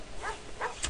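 A dog in the Phantasmagoria video game gives two or three short, soft barks or yips in quick succession, fairly faint and close, with no talk over them.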